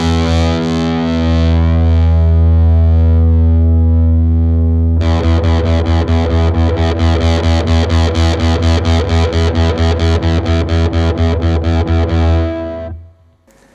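Electric guitar note through a Fender The Pelt silicon fuzz pedal with the tone knob turned fully up: a loud, thick sustained fuzz tone, then rapid tremolo-picked repeats for several seconds before cutting off abruptly.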